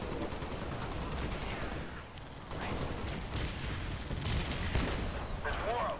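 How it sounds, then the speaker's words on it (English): Shotgun blasts and explosions in the video game Spartan Assault, a dense barrage of booming shots and gunfire that runs continuously and loudly throughout, with a voice talking over part of it. "Shotgun."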